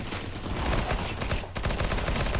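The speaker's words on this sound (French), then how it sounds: "ressemble à un P90, je l'avoue" Bursts of rapid automatic fire from a P90 submachine gun in a competitive video game match, dense and loud with a brief gap mid-burst before the firing resumes.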